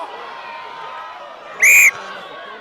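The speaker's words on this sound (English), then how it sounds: "And there's another whistle." A referee's whistle at a Vermont vs. Norwich Friday night rugby match gives one sharp, loud blast lasting about a quarter second, cutting through the steady crowd noise of the match.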